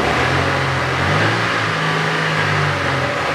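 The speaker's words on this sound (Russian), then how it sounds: "Глушитель мы заменили. Звучит очень понравилось как." Steady, loud exhaust drone from a 2007 Chevrolet Lanos with a newly replaced rear muffler, the engine held at moderately raised revs with a smooth, even tone and no pauses.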